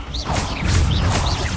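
Spell-casting effects from Hogwarts Legacy, a levitation charm rendered as a series of whooshing, swishing magical bursts with rising shimmery tones, repeating roughly three times in quick succession over a low rumbling bed, fairly loud.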